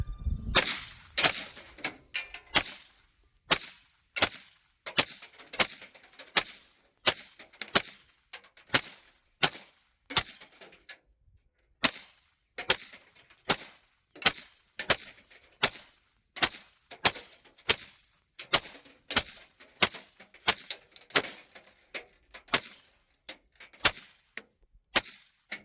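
A rifle fitted with a Breek suppressor fires a full magazine in a steady series of sharp, close reports, about thirty shots spaced roughly a second apart, each a crisp crack with a short tail and no talking.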